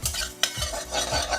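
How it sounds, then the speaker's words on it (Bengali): Poppy seeds dry-roasting in a hot pan while being stirred, giving short scraping strokes and a soft crackle, close and moderately loud with no talk. "এটাকে শুকনো খোলায় ভেজে ঠান্ডা হলে গুঁড়িয়ে নেব।"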